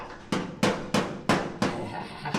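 Several sharp hammer strikes ring out on a car panel, near and loud, spaced irregularly about every third of a second with short metallic decays, during restoration of a C10 truck.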